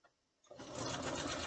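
A sewing machine fitted with a walking foot starts up after a brief pause and stitches a quilted pillow flange, a close, steady whirring rattle running continuously to the end.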